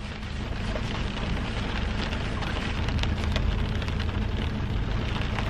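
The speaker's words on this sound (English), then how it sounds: "Rain came out of nowhere." Rain pouring outside makes a dense, steady hiss of drops drumming on surfaces, loud and continuous with scattered sharper patters, and no one talks over it.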